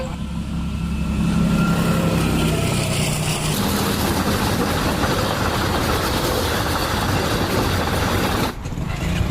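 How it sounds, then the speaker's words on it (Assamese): A train rumbles steadily past a closed level crossing, loud and close for about eight seconds before cutting off abruptly, with a low engine hum beneath the clatter of wagons. "ট্ৰেইনখন আহি পাইছে।"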